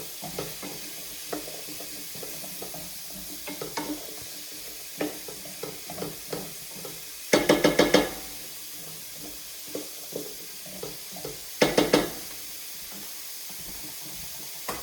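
Onions fry in a pan for a pumpkin-spiced soup with salt, pepper and tarragon, giving a steady soft sizzle punctuated by light stirring clicks and two short louder bursts of hissing, with no talking.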